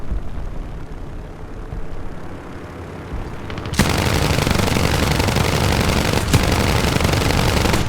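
Rapid 20mm cannon fire from a Morko Morane fighter in War Thunder, a sustained loud close burst starting partway through, over steady aircraft engine drone.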